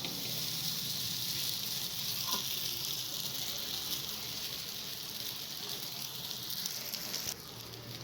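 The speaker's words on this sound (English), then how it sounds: "Now place our paneer cheese paratha on the tawa." Paneer cheese paratha sizzles in oil on a hot tawa, a steady, fairly quiet hiss of frying that continues evenly and drops slightly near the end.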